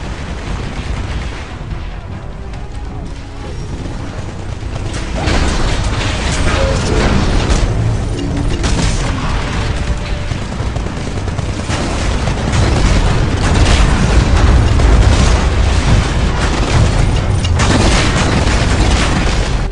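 Grenade blasts in the Xbox One shooter Titanfall pound through a loud, continuous battle din of rumbling booms and mechanical clatter that grows denser partway through.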